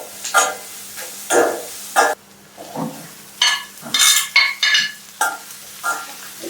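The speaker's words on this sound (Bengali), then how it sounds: "এটাকে একটু টস করতে হবে, পেঁয়াজটা যাতে মেখে যায় ভালো মতো।" Onions tossed with curry leaves and salt in a frying pan for a Kerala-style chicken dish, giving a series of short sizzling, scraping bursts with brief quiet gaps between them, close and fairly loud.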